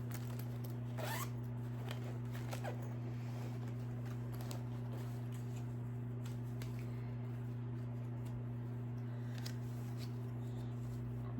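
A quiet zipper on a cross-stitch project bag being pulled in short rasping bursts over a steady low electrical hum.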